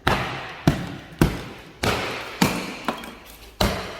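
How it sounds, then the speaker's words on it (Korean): A rubber mallet strikes a gypsum board wall, seven loud, close, hollow thuds spaced roughly half a second apart, each ringing briefly before fading, with no talking between blows. "고무망치를 쳐서 조금 이게 됩니다"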